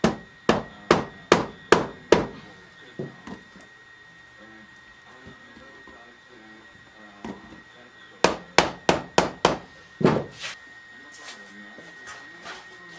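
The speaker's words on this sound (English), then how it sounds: "Okay, so we're going to just tap it real carefully right here, just so that seam can go together." A rubber mallet taps along the seam of a new door window on a Cessna 152, two quick bursts of five or six sharp close knocks separated by a quiet pause, with a few scattered lighter taps.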